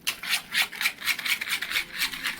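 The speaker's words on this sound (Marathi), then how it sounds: "चांगलं ढवळून घेतलं. एकजीव करून घ्यायचं सर्व पूर्ण." A batter being stirred in a bowl, part of a rainy-season Konkan recipe from Ratnagiri, gives steady rhythmic scraping and swishing strokes about four times a second, close and moderately loud, with no talking.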